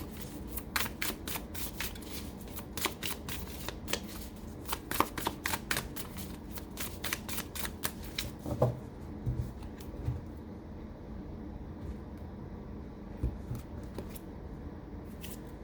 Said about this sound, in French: On va sortir peut-être une troisième carte pour que ce soit un peu plus clair.